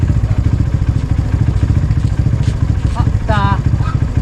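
Motorcycles pass along a street, a steady mid-pitched engine drone running throughout with some clatter, while people talk and call out over it.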